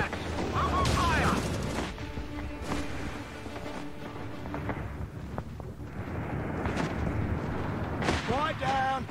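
Gunfire and artillery booms from the World War II strategy game Company of Heroes 3, a busy stretch of bursts and heavy blasts layered under frequent shouted in-game voice lines.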